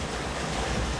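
Strong wind rushes over a sailboat at sea in the Ionian Sea, a dense, loud roar of gusting air and sea noise buffeting the microphone for a brief moment, with no voices.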